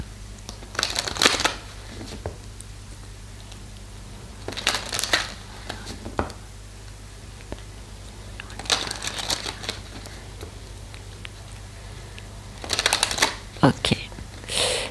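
Tarot cards being shuffled in several brisk riffling bursts spaced a few seconds apart, close up over a low steady hum.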